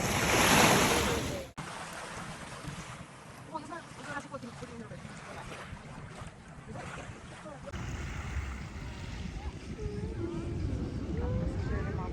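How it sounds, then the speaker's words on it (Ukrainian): Ocean waves lap at a beach in Sanur, Bali, with calm, gentle surf washing steadily under light wind noise after a loud burst at the start; no speech is heard. "Нарешті ми на океані. Зараз він схожий на ласкове море."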